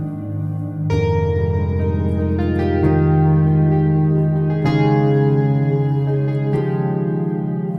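A bright, sustained synth guitar patch rings out in several struck chords, washed in heavy reverb and echo, with no voices.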